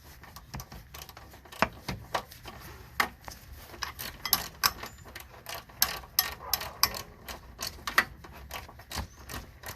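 An 8mm ratchet wrench clicks in short irregular bursts while tightening on a Honda Civic with an H22 swap, crisp close pawl ticks with brief pauses between turns.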